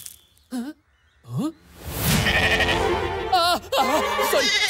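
Cartoon sheep bleat in short, wavering calls, two separate bleats early on, then a noisy, busy stretch of overlapping bleats and flock commotion that grows louder and fills the rest.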